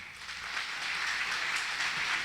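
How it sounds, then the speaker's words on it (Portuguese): A church congregation applauds the Lord, a soft, distant, continuous patter of many hands clapping together for a couple of seconds. "Aplauda bem forte ao Senhor."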